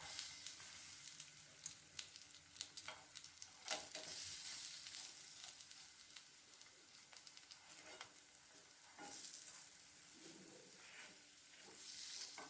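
Egg bajji deep-frying in oil over a low flame gives a steady, faint sizzle and crackle throughout, with occasional brief stirring clicks and no talking.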